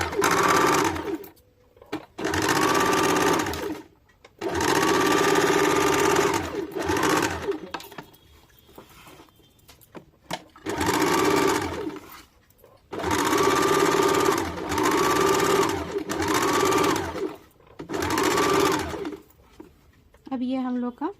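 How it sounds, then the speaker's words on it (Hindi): A sewing machine runs a double line of stitches along the curved seam of a loose palazzo's back panel, whirring in steady bursts of a few seconds each with short pauses between, close and loud. "बीच से हम लोग सिलाई डालना चालू करेंगे"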